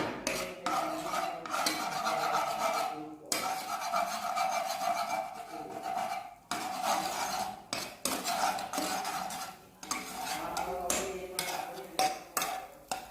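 Eggs beaten with a utensil in a bowl while making simple fried rice, giving rapid, steady clinking and scraping strokes up close, with a few brief pauses between bursts and no talking.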